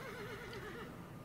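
A horse in the video game Dwarf Fortress gives a single quavering whinny, its wavering neigh lasting most of a second over a soft background.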